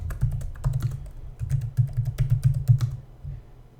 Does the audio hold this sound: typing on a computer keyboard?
yes